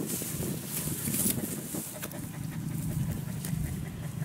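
A dog pants in short, steady breaths out in open farm fields while hunting field mice, close to the microphone over a constant rush of wind.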